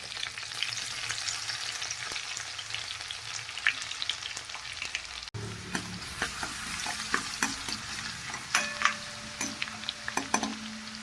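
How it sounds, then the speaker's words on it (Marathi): Garlic sizzles and crackles steadily in hot oil with cumin seeds and curry leaves while being fried to a reddish brown for a simple tomato sabzi, a close continuous frying hiss with occasional stirring scrapes and clinks, no talking. "हा आपला लसूण आता लालसर भाजून घेतला"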